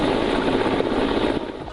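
A helicopter during a military exercise in Ukraine, with soldiers jumping from it, gives a steady, loud rotor and engine roar that fills the whole stretch and eases slightly near the end.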